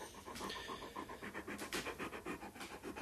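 A dog pants steadily and close by, a fast run of breathy, rhythmic huffs repeating evenly throughout at low level, with no talking.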